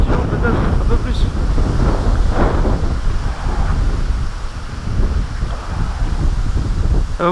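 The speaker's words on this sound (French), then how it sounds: "Vraiment navré pour le vent, mais je peux pas faire autrement les mecs" Wind buffets the microphone at a carp fishing spot in a loud, continuous rumbling roar with gusty swells, masking everything else.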